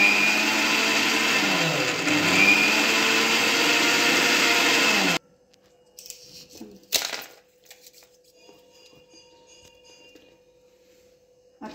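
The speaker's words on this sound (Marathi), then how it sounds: "पुन्हा 5-1 सेकंद मिक्सरला फिरवून घेणार आहोत।" Kitchen mixer grinder churning cream with cold water, a loud steady motor whine winding up and running about five seconds, then stopping, followed by quiet clinks and handling sounds.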